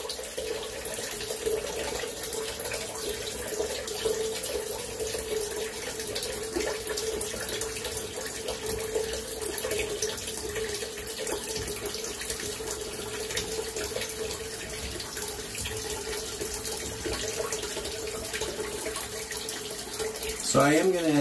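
Water running from a tap into a bathroom sink, a steady close hiss and splash that continues throughout with a slight swell near the end.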